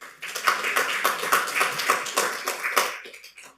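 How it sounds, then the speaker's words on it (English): Audience applause fills a museum gathering at The Dalí, a dense patter of many hands clapping for about three seconds before tapering off. "a big clap for yourselves"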